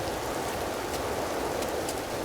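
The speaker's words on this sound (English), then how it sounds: "I can barely hear myself think over the game sounds. The wind and the rain and the thunder." Steady, dense rain and wind ambience from the video game Empyrion, an even hiss with no distinct thunderclap, continuous throughout.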